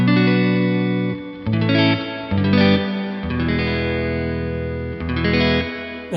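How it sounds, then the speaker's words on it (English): Distorted electric guitar chords ring out with a lush reverb tail, sustained notes blooming and shifting in a slow, spacious progression. "Nice little pedal that is actually capable of various reverb effects"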